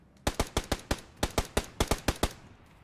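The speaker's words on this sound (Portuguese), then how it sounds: "Vou dar um tiro, hein." Rapid gunshots in the video game PUBG Battlegrounds, a string of about thirteen sharp cracks fired in quick bursts with a brief pause midway, alone and fairly close.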